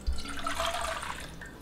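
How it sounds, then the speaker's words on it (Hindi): Water pouring into a pan to start sugar syrup for gulab jamun, a steady splashing trickle heard up close for under two seconds with no talk. "यहाँ पर डाल देंगे 1 कप पानी"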